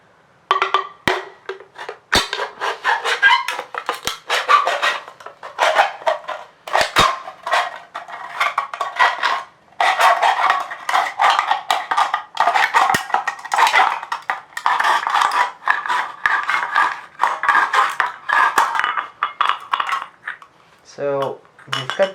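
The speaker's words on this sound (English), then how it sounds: "So I'm just gonna roughly start cutting the can from over here." A knife hacking and scraping through an aluminium drink can, making irregular metallic clicks, crinkles and scrapes throughout, close and fairly steady, with a few sharper taps.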